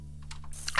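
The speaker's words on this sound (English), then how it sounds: "Okay, I can use the keyboard for that." A few light, scattered computer-keyboard key taps during video game play, close and fairly quiet over a steady low hum.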